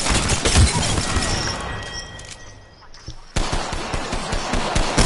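Gunfire in the video game Apex Legends, with rapid automatic bursts and sharp shots in the first seconds, a brief lull, then another fast string of shots to the end.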